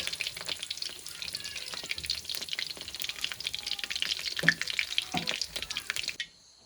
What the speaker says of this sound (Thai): ทอดปลาแบบประหยัดน้ำมั นทอดละสามตัว